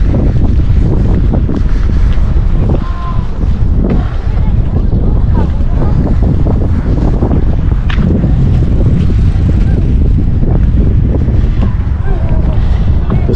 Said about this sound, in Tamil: இன்றைக்கி வெதரும் கொஞ்சம் காற்று அடிக்குது